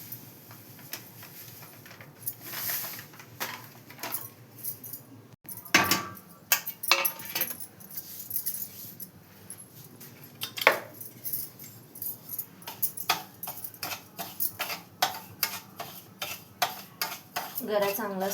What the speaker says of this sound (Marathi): गरा चांगला सोनेरी होऊस्तोवर भाजून घ्यायचा.